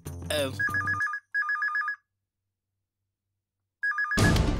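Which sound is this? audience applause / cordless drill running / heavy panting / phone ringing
phone ringing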